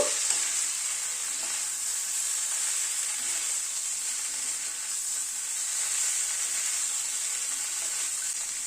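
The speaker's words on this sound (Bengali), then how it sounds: "এবার আলু ফুলকপিটা দিয়ে দিচ্ছি। আলু ফুলকপিটা দিয়ে মশলার সাথে আবার একটু কষিয়ে নেব।" Potato and cauliflower pieces stir-fry with spices in a pan, producing a bright, steady hiss of sizzling oil with gentle stirring, even and uninterrupted throughout.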